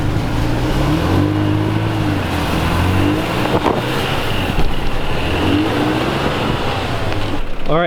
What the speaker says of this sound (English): All right, we've got the car turned around.